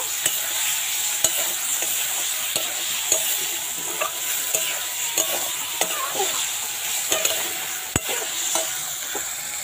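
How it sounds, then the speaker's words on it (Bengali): Ridge gourd and poppy seed paste being stirred in a frying pan, with a steady broad sizzle and regular scraping strokes of a spatula clicking against the pan, close and continuous with no voices. "পোস্তটা দিয়ে ভালো করে নাড়িয়ে নেব।"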